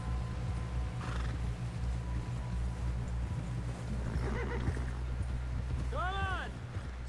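A horse in Red Dead Redemption 2 thuds along with a steady background of hoofbeats, then gives a clear, rising-and-falling whinny near the end, set under faint game ambience and voices.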